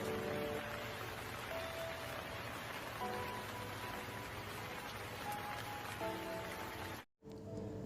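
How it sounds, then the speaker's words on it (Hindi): Soft steady rain patters on surfaces, a continuous quiet hiss with faint background tones, cutting out briefly near the end. "पूरे दिन बारिश रुकने का नाम ही नहीं ले रही थी।"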